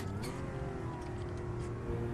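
A Porsche 911 drives on a road, its engine note a steady, continuous mid-pitched drone with a rough lower hum, held at a constant level close to the microphone with no talk over it.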